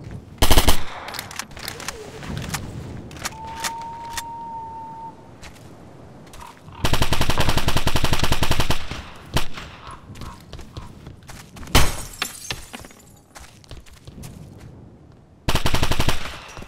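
Machine gun fire rattles in a firefight in the video game Operation Flashpoint: Dragon Rising, with loud sustained bursts and a few short ones separated by quieter gaps holding scattered single shots.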